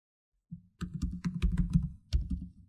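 Computer keys tapped in a quick, uneven run of close, crisp clicks after a brief single press, with a short pause before a final cluster of keystrokes.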